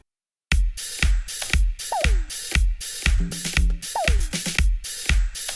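A short percussive audio sample looped in Ableton Live 11 warp mode plays after a brief silence, with sharp repeated hits and a falling tonal chirp recurring, sounding choppy and mechanical.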